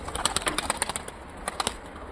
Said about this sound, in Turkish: Bunları böyle kanat çalıştıracağız.